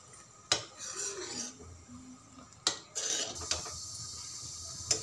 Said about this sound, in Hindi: देखिए हमारा मक्खन खोलना शुरू हो गया है, अब इसे चलाते रहेंगे। अच्छे से पका लेंगे चला चला के ऐसे।